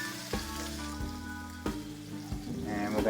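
A homemade burger patty fries in a little oil in a non-stick pan, giving a steady close sizzle with a few sharper pops and crackles that build toward the end.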